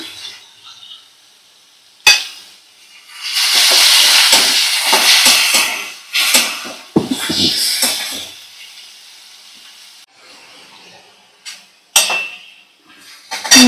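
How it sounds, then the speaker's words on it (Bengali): Chopped bottle gourd with ginger-garlic paste hits a hot pan and sizzles in a loud hissing burst that fades over a few seconds, followed by quieter sizzling and the clink of a utensil against the pan. "এবার আমি কেটে রাখা লাউটা দিয়ে দেব। আর একটু আদা রসুন বাটা দিয়ে দিলাম।"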